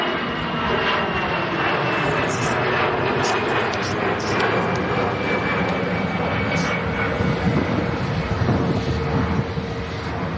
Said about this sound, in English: EasyJet on the roll next out